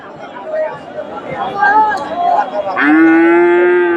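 Friesian heifers moo over a busy cattle market crowd murmur, and one long, loud bellow rises near the end above the chatter.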